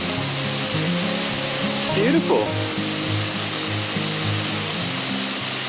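A Nova Scotia waterfall seen from the bottom looking back up the fall, a steady broadband rush of falling water filling the scene throughout, with a brief spoken word near the middle.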